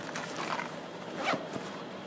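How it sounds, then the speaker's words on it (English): Pockets on an XD Design Bobby backpack being zipped shut, with a few quick rasping zipper pulls close up and light handling rustle, no talking. "Zip them up."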